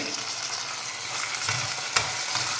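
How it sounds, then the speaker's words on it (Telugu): Ginger and garlic frying with onions in a pan, a steady close sizzle with a couple of stir scrapes and a sharper clatter partway through, no voices. "కొంచెం వేగనిద్దాం అల్లం వెల్లుల్లి పచ్చివాసం పోయే వరకు వేగింది"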